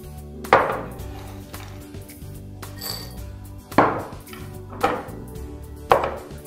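A knife chops prunes on a cutting board in a few sharp, spaced strikes, with faint tapping and a light clink in between.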